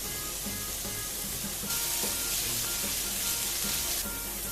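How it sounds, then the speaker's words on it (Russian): Onion and garlic frying in hot oil in a pan, a steady broadband sizzle that swells louder partway through and stays close and continuous, with no voices. "Отправляю туда лук с чесноком."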